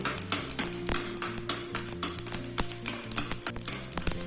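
Fennel seeds crackle and pop in a hot pan over a low flame while a chicken stew is being made, giving a steady run of sharp little ticks and taps with no talking.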